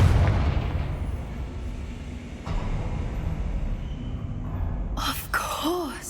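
A Confringo fire spell explodes in the Hogwarts Legacy game, with a heavy boom at the start fading into a rumbling tail, then a sharper crack near the end followed by a brief whooshing wail.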